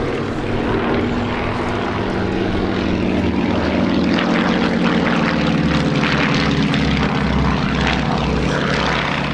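An Avro Anson Mk.I propeller aircraft flies past at a flying festival. Its piston engines drone loud and steady with a throbbing beat that swells toward the middle and holds to the end.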